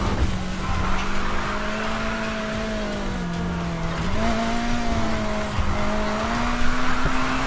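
Race car in Need for Speed Heat with nitrous boost, loud steady engine drone and skidding tire squeal, pitch dipping and climbing as it slides through a turn, continuous and close.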